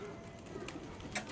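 A pigeon coos softly at night during a pigeon training session, faint and brief, with a few short calls under low background noise.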